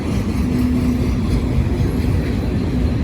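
A loud, continuous rumble of a freight train over 1.5 miles long rolling past on the Indiana & Ohio Railway near Loveland, Ohio, with steady low clatter and a faint metallic squeal, sustained throughout without a break.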